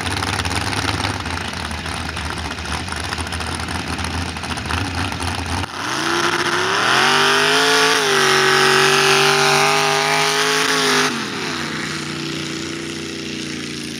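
A Chevy-powered Mini mud drag racer roars at high revs during a mud drag run, its engine note climbing sharply and holding loud and close before dropping back toward a rough idle.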